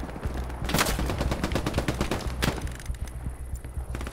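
Artillery barrage in the video game Hell Let Loose: a dense, loud run of overlapping explosive cracks and booms rolls on without pause, with sharper blasts standing out near the start and midway.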